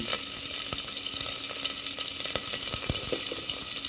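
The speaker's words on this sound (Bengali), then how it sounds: "ফোড়নটা যখন একটু ফুটে উঠবে, তখন আমি পর্যায়ক্রমে কাঁচামরিচ কুচি, তারপরে যেগুলো আমি কেটে রেখেছিলাম, পেঁয়াজ কুচি" Chopped green chillies and onion fry in hot tempering oil for a cabbage and new potato curry, a dense, continuous hiss with scattered crackles and pops, close and steady throughout.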